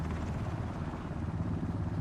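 Close, continuous thudding rotor and engine roar of a helicopter in the battle royale game Ring of Elysium, steady and loud with no voices over it.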